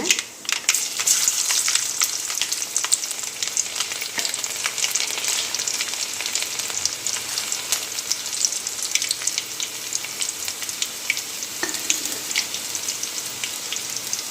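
Garlic fries in hot oil while a date pickle is cooked, giving a steady, close crackling sizzle with scattered pops and stirring throughout, and no voices over it.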